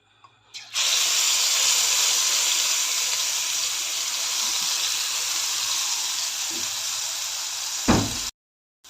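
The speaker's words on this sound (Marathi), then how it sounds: "तेल गरम झालेलं आहे ह्यामध्ये आपण वाटून घेतलेला मिरचीचा ठेचा यामध्ये घालते" Crushed red chili thecha hits hot oil and breaks into a loud, steady sizzle that holds for several seconds. The hiss eases slightly toward the end and finishes with a soft thump before cutting out.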